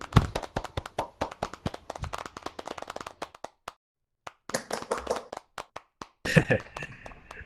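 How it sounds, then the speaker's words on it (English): Scattered claps greet a keynote speaker at an education conference, a few people clapping unevenly with sharp individual slaps, a brief silent gap midway, then a final flurry. "A big round of applause, please, for everyone for Alvin"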